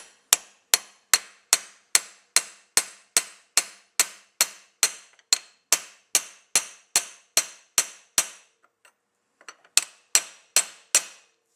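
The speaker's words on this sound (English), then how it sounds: "Just do constant taps with it, with the hammer and the driver" A hammer taps a driver to seat a part on a Cadillac, about two dozen sharp, even metallic strikes in a steady rhythm, a short pause, then several more taps, close and clear with no talk.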